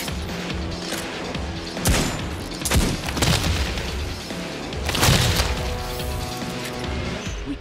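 Destiny 2 Titan gameplay as yellow sacks in a nest are shot, with repeated loud booms and crunching impacts standing out against a steady layer of game noise and music.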